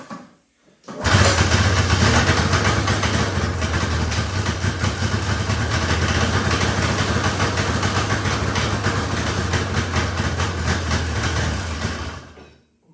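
A 1978 John Deere Liquifire snowmobile engine catches after a brief silence and settles into a loud, close, buzzing two-stroke idle that runs unevenly for about eleven seconds before cutting off.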